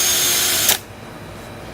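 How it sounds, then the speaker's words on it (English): A power drill whines steadily while drilling out shims, close and loud, then stops abruptly partway through, leaving a low background hum. "gonna drill them out"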